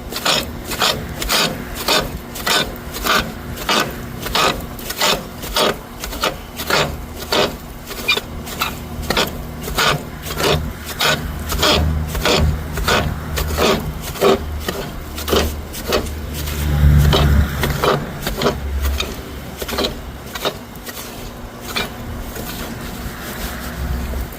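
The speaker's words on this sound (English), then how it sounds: "And then I just rake it forward." Metal rake scraping ash forward through a boiler firebox, a steady rhythmic series of rasping strokes repeating many times, close and fairly loud with no talk.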